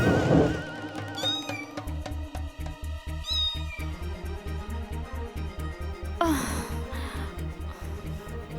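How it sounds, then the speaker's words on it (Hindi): A cartoon cat meows repeatedly over a steady rhythmic musical backing, its calls rising and bending in pitch, with one louder, drawn-out yowl near the end. "लगता है वो नकचड़ी बिल्ली आज फिर आ गई है।"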